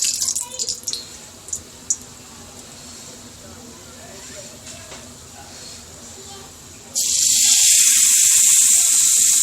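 Water from a spoon hits a hot tawa greased with ghee while besan tikkis are being made. A few light clinks sound over a quiet stretch, then a loud, sustained sizzling hiss erupts close by.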